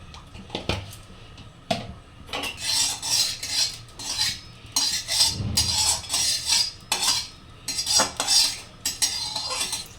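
A wok (kadai) is set on the stove and handled as a spoonful of mustard oil goes in, with sharp metallic clanks and scraping bursts separated by short pauses, no voices.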